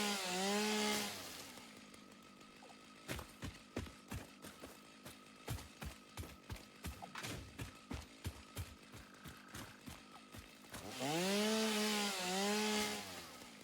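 Chainsaw in the video game Satisfactory cutting down trees, a revving whine at the start and end with a long run of rapid, rhythmic cutting bursts between, steady and fairly close.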